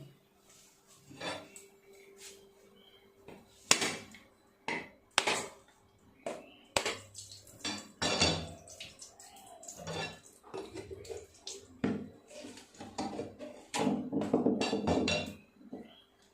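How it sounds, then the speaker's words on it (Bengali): A large coconut is cracked open with a series of sharp, irregular knocks and clacks, some loud and some faint. Between the hits come softer clattering kitchen sounds like utensils and pans. "তো নারকেলটা আমি প্রথমে ফাটিয়ে নেব।"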